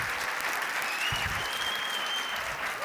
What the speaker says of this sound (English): Can we please give my panel a round of applause?